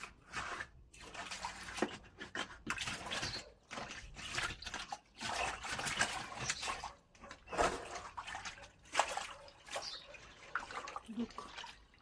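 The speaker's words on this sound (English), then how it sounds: "put clean water in here." Clean water splashes and pours into a chicken water container in bursts with short pauses between them. Faint talking can be heard close by.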